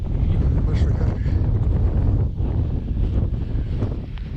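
Strong wind at a lakeside fishing spot roars steadily and loudly into the microphone, a constant low buffeting rumble with no break.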